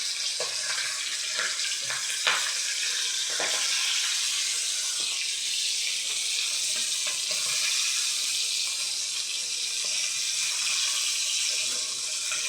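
Pabda fish fry in hot oil in a pan, a constant bright hiss and sizzle with occasional crackles and a utensil tap, steady and close.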